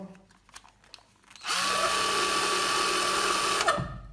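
An electric motor driven by a homemade frequency converter in a black printed box spins up abruptly and runs at a steady, loud whine for about two seconds before cutting off, with faint clicks beforehand.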